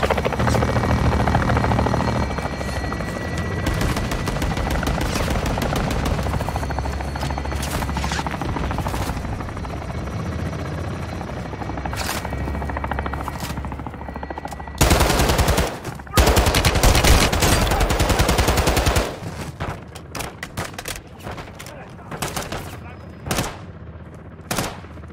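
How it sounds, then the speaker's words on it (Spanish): Heavy gunfire and machine-gun bursts mix with a loud, continuous helicopter rotor drone in a Modern Warfare 2 campaign battle, with dense rattling volleys and a few sharp isolated shots near the end. "Disparo."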